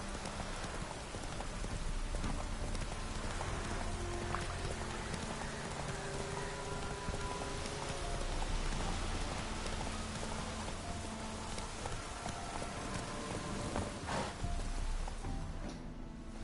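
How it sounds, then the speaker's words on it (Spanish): Steady rain falling in the video game The Witcher 3, a continuous soft hiss of drops pattering on surfaces, fairly faint and unbroken, with no talking. "Está lloviendo, que está lloviendo"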